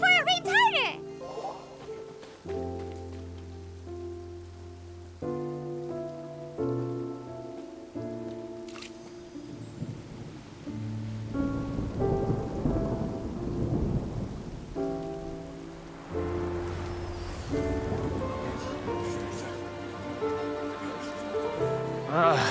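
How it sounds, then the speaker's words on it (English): Rain and thunder in the Genshin Impact video game, low rumbles and a rainy wash mixed under layered game music tones, moderately quiet and continuous. "It's raining! Oh no, Paimon forgot to bring an umbrella!"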